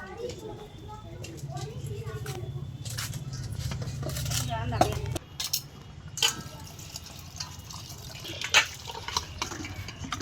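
Boiled eggs and potatoes are rinsed and rubbed clean in water in a home kitchen, giving splashing and sloshing with clinks of a bowl or pot, then scattered sharper knocks and drips, with voices talking over parts of it.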